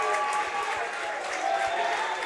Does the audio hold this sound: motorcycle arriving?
no